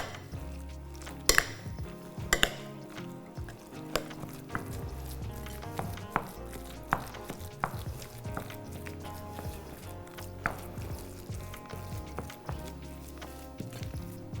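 A ricotta and spinach filling seasoned with nutmeg is mixed by hand in a bowl, with close, irregular scraping, soft squelches and sharp clinks of utensil against the dish, a couple of louder knocks early on.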